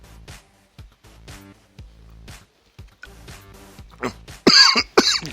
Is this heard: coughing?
yes